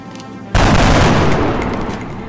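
Gunfire in XCOM: Enemy Unknown, a sudden loud blast after a quiet half second that turns into a dense, sustained roar of shots and debris, slowly tapering off.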